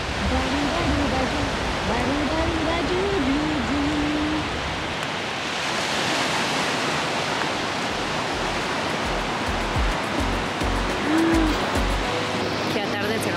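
Sea waves break on a cold beach in Valencia, a broad continuous wash of surf filling the scene at steady loudness, with a faint voice carrying over it early on.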